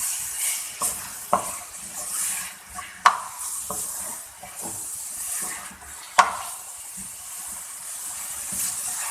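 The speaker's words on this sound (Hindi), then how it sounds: "इतनी टाइम तक भूनूंगी कि जब तक उसका कलर ना चेंज हो जाए" Minced beef keema fries in a pan for smoky dam ka keema, a steady soft sizzle and hiss with a few sharp clinks and stirring scrapes standing out, fairly close and without talk.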